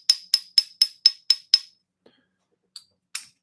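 Silver coins clink together in seven quick, sharp metallic taps with bright ringing tails, followed by a pause and two fainter, isolated clinks; no voices.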